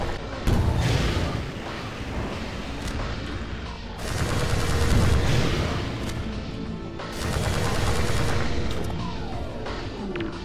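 Sustained SMG fire in Half-Life 2 Episode One comes in three long, dense bursts of rapid shots mixed with booms and crashes, loud and close, with no talk.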